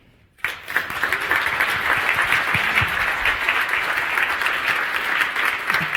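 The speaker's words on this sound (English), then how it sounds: "one more round of applause for Danae, co-founder of Indiegogo." A conference audience in a grand hall breaks into applause, starting abruptly after a short silence and holding as dense, even clapping to the end.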